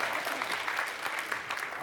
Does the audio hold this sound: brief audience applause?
yes